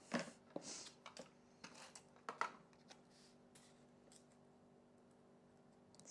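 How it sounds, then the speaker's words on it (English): Scissors snip through paper in a few quiet, irregular cuts, crisp and close, then trail off into near silence. "Just for Amy, I'm going to do this with scissors."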